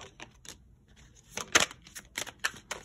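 Tarot cards shuffled by hand, close and crisp, with a few short riffling bursts early then a louder cluster of quick flicks and snaps toward the end, no talk.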